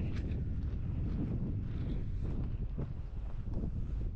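Strong wind gusting across the microphone on an open hilltop at Parang Hills, a continuous low rumbling roar with no pauses.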